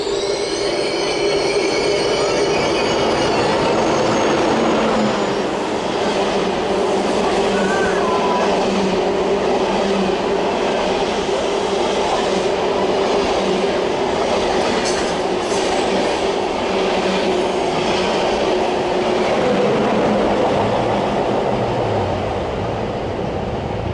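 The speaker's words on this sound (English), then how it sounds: "Surprising speed there, an ICE service. I think it's an ICE train that's not in service" An ICE train, apparently not in service, rolls into a platform at Berlin Hauptbahnhof at surprising speed, a loud sustained rumble of wheels with squealing and rhythmic clatter that fills the whole stretch.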